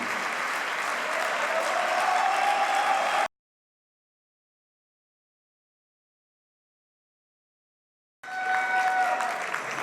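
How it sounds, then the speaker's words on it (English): Guests at the annual Formula 1 marshals' dinner applaud the race marshals: a thick, even roar of clapping that cuts to silence for several seconds, then resumes just as full. "let's give them applause and thank them to what they do"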